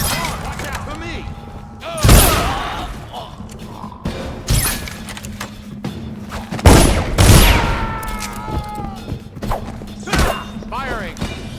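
Gunshots ring out in the stealth action game Dishonored, several loud cracks spaced a couple of seconds apart over a low mechanical hum, with voices calling out between the shots.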